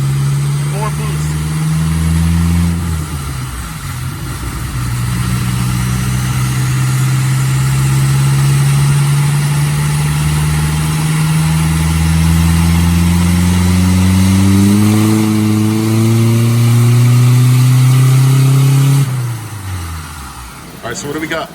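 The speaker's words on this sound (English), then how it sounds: "This is 4th gear pull, cutout open, more boost." A Mercury Capri RS Turbo on a dyno with the exhaust cutout open and boost raised, pulling hard in fourth gear: a loud, steady engine drone climbing in pitch over about fifteen seconds, then dropping away as the throttle closes.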